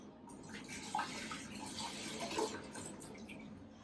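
Water pours into a photo developer tank while mixing chemistry for a vintage analog photo booth: a faint, steady trickling splash with a few small gurgles, close but quiet.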